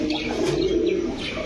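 Pigeons, including a pair of Naira pigeons, cooing at a pigeon sale: a steady low, throaty cooing murmur with faint chirps above, close and continuous amid busy background noise.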